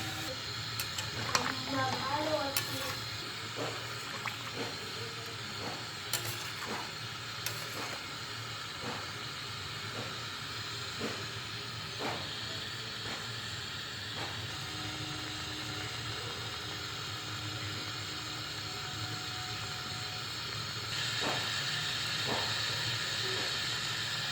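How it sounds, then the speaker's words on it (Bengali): Lukewarm water goes into a hot pan of jackfruit that has been sautéed for five minutes. A steady, close hiss and sizzle runs throughout with occasional clinks, and a voice talks over it. "জলটা আমি হালকা উষ্ণ গরম জল দিলাম।"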